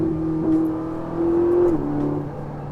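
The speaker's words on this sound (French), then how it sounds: "Quand on réappuie un petit peu sur l'accélérateur, ça pète derrière." A Ferrari 458 Italia engine revs hard, with a steady engine tone that climbs and then drops as the throttle is blipped, and brief exhaust pops come through on acceleration. It sounds close and loud, and no one speaks.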